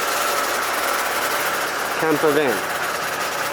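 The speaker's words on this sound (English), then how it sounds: "You can see here, engine's running." The turbo diesel engine of a 2013 Mercedes-Benz Sprinter 2500 high-roof camper van runs with a steady loud drone, and someone speaks briefly over it near the end.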